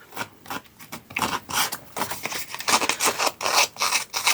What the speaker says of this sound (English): So just do this with a pair of scissors.